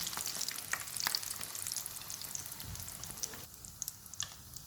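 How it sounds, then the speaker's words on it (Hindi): Tandoori chicken cutlets fry in hot oil with a steady close crackling sizzle, broken by a few scattered pops and utensil taps as they are lifted out. "कटलेट्स फ्राई हो गए, इनको निकाल लेते हैं।"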